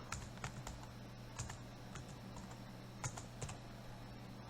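Computer keyboard being typed on, soft irregular key clicks in short bursts, faint and close over a quiet room hum, with no talking.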